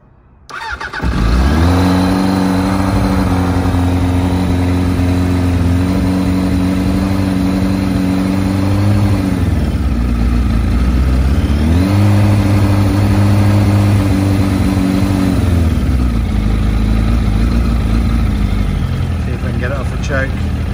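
A 1992 Suzuki GSX-R 750 motorcycle, stone cold, cranks and fires, then settles into a steady loud idle with a brief rev dip and recovery midway, the engine running close and continuous throughout.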